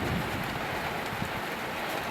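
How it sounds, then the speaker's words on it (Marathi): Unseasonal rain falls steadily on a farm, a dense, even hiss of drops with no breaks, close and moderately loud, with no voices. "सुरू झालेला आहे पाऊस अवकाळी पाऊस"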